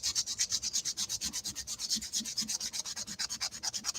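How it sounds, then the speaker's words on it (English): Sheet metal being sanded by hand with finer-grit sandpaper: close, steady back-and-forth scraping strokes in a quick, even rhythm, with no voices. "There, I've got that sanded up."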